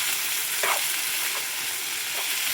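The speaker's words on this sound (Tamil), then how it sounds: "அப்படி நல்லா வதக்கிடு" Steady, loud sizzling of ivy gourd frying in hot oil, with a few faint scraping stirs in the pan.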